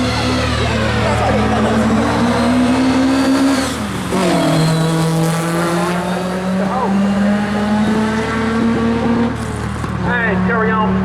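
A Ford Puma race car at the Brighton Speed Trials drives past with a strong engine note that climbs and shifts in pitch through several gear changes, loud and close throughout.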